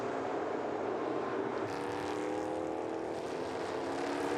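EuroNASCAR stock cars racing on a circuit, a loud continuous engine roar with rising and falling pitch as cars pass close by, steady throughout without speech.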